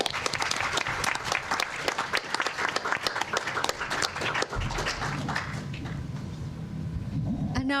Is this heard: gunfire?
no